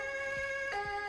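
Ambulance siren in the Roblox video game Emergency Emden, a loud two-tone wail switching pitch partway through the short burst, with no talking.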